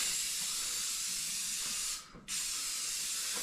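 Rust-Oleum spray paint hisses from a rattle can onto a 2002 Ford F350 under rust repair, a steady close spray that cuts out briefly and resumes.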